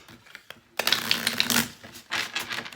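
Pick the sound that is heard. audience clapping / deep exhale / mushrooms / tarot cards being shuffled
tarot cards being shuffled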